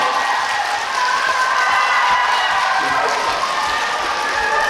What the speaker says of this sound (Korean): 다시 한번 두 분에게 큰 박수 부탁드리겠습니다